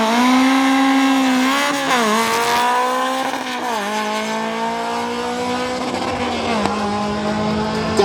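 Race car on an airfield timed run at a motorsport event, engine revving hard and climbing through gears with sharp shift dips, loud and fairly close, with no talk.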